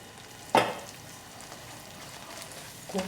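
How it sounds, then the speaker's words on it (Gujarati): Ghee is added to a cooking Mysore Pak mixture and stirred, giving a low, steady sizzle with a couple of brief scraping stirs, close and without speech. "ઘી ઉમેરતા બરાબર મિક્સ કરતું જવાનું છે"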